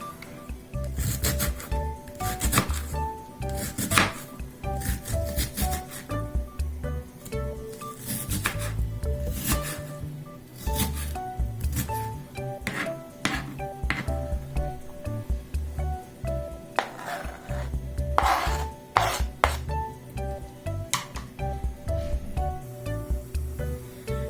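A knife chops an onion on a cutting board, with repeated close, sharp strokes and scraping in an uneven rhythm throughout.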